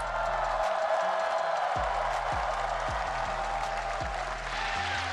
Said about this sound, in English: As the crowd cheers for him, of course.